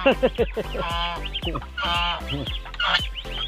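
Geese honk loudly and repeatedly close by on a farm in Bacnotan, La Union, a harsh, overlapping chorus of calls in uneven bursts.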